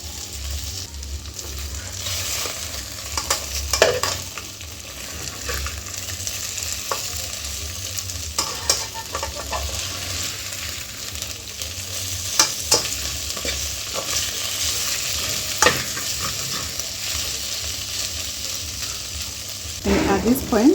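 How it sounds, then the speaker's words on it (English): Meat browns in a hot pan with a loud, steady sizzle, while repeated scraping and stirring clatter mark each turn of the pieces. The cooking is heard up close for a long stretch, with no clear talking. "We're going to keep turning so that it doesn't stick onto the pan."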